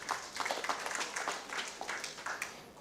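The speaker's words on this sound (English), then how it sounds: "Please, let's clap for that." Audience applause at an annual general meeting, a steady wash of many hands clapping at moderate volume for nearly three seconds with no voices over it.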